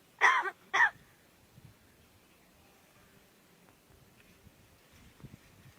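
Two short, harsh rasping cough-like calls from a crow sound close together at the start, followed by quiet outdoor ambience with faint rustles.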